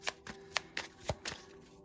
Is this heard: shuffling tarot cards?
yes